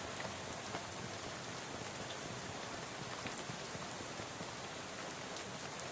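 Steady rain hissing in the video game Shadows Over Loathing, a faint, even wash of drops with occasional brighter patters and no pauses or voices.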